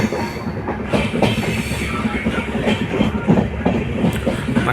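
A passenger train rolls out of Mysore on the way to Kacheguda, Hyderabad, heard from inside. Loud rhythmic clickety-clack of wheels over rail joints runs steadily under a constant rumble, with no talk.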